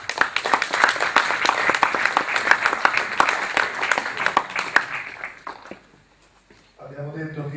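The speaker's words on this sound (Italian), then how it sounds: "merita rispetto e un applauso per chi è qui" A crowd applauds loudly and steadily for about five seconds at a football supporters' assembly in the Palarossini arena, Ancona, then fades out before a voice begins speaking.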